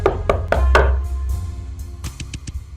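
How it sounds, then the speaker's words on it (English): A door is knocked on in the horror visual novel Vincent: The Secret of Myers, four loud close raps in an even rhythm, then a quicker, softer series of knocks after a short pause. "my butler was the one who heard peculiar knocking sound on the door last night."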